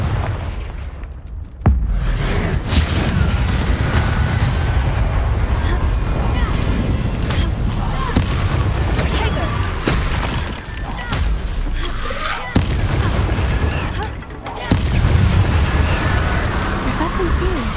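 A loud, sustained blast from a Confringo explosion spell in a video game, booming continuously with a few sharp bursts along the way, under game sound and a little voice.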